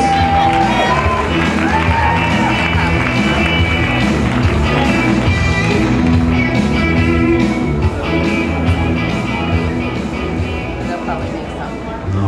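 A ballroom dance competition crowd cheers, whoops and shouts loudly for the dancers, a dense continuous roar of voices with applause mixed in throughout.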